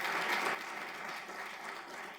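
An audience at a firefighter academy graduation claps steadily for the veterans in attendance, a dense, continuous applause that swells in the first half-second, then settles and carries on evenly.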